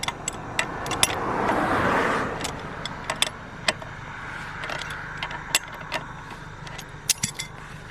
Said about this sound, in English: There are so many cars going by right now